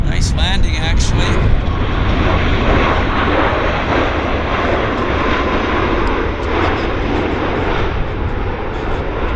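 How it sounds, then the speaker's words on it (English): A passenger airplane touches down at Vancouver Airport (YVR), its engines roaring loud and steady with a broad rushing drone throughout, a few brief sharp sounds near the start, and a voice talking faintly over it. "Nice landing, actually."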